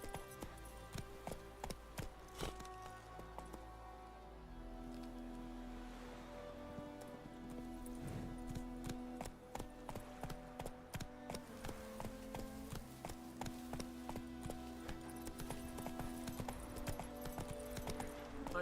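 In The Witcher 3, horse hooves gallop in a steady, fast clip-clop rhythm that drives on throughout, close and fairly quiet, with a low ambient wash of game sound underneath.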